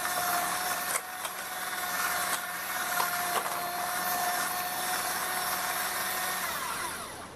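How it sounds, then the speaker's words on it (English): An electric mixer beats butter, sugar and eggs for a tea cake at high speed, a steady close whir with a few light knocks against the bowl, no talk. "at a high speed I mix it so that it gets very well incorporated into the sugar and butter"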